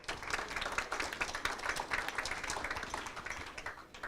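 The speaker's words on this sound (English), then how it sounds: "Big round of applause for Adrian" Audience applause for a panelist at a crypto expert panel, a steady wash of many hands clapping that holds at even strength for the full stretch, with no talk over it.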